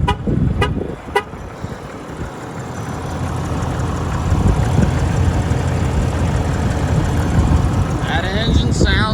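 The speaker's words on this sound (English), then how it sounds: "let's fire her up and listen to that engine." Rebuilt engine of a 2022 Ram 3500 pickup truck starting and running, with brief honks at the start, then a loud, steady idle rumble that grows slightly, while someone talks over it.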